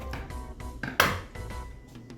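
A roast leg of lamb is sliced at an angle with a fork and a very sharp knife, giving soft scraping and light metallic clinks with one sharper clink near the middle.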